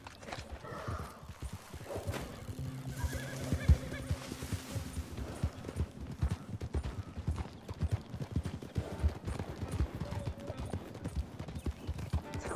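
A buckskin horse in a video game clip-clops along with steady hoofbeats and lets out a neigh, other horses and faint game ambience around it, no talk.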